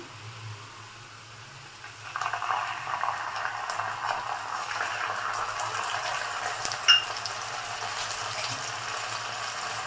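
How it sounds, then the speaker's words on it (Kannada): Onions fried golden brown sizzling steadily in a pan; after a quiet start, a loud, even frying hiss rises as ginger garlic paste goes in, with a brief clatter partway through. "ಸೊ ನಾನು ಇವಾಗ ಎತ್ತಿಟ್ಟಿದ್ದ 1 ಸ್ಪೂನು ಶುಂಠಿ ಬೆಳ್ಳುಳ್ಳಿ ಪೇಸ್ಟ್ನ ಹಾಕ್ತಾಯಿದ್ದೀನಿ"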